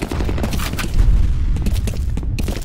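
Grenade explosion in F.E.A.R. Combat: a loud, booming blast with heavy low rumble, amid ongoing scattered gunfire and crackling impacts throughout.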